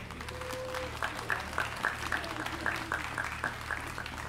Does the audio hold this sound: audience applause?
yes